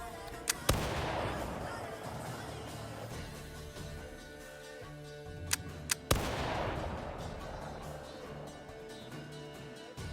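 A VRChat roleplay squad fires a volley of gunfire together, sharp loud cracks near the start and again midway, each followed by long rolling echoes and noisy reverberation.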